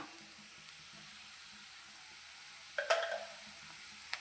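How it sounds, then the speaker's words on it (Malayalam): Onions and green chillies sizzle in a pan as they are stirred, a faint steady hiss with a brief scraping clatter near the end, no voices. "നന്നായി ഇളക്കി മൂപ്പിച്ചെടുക്കുക. ഉള്ളിയും പച്ചമുളകൊക്കെ മൂത്ത് വന്നിട്ടുണ്ട്."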